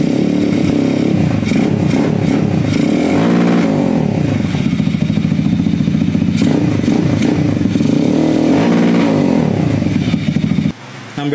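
A motorcycle engine with stock valve springs is held at high RPM, a loud, close, continuous buzzing rev with a rattling mechanical edge that barely wavers, then drops off sharply near the end before picking up again.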